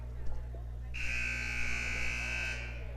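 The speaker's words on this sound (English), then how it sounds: "Buzzer sounds." A loud electronic buzzer blares for about a second and a half in a gym during a junior varsity boys' basketball game, a steady harsh tone over crowd murmur and faint talk.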